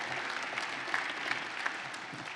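A crowd of union members at an AFL-CIO address to the ILA breaks into applause, a soft, even wash of many hands clapping at a moderate distance, with no voices over it.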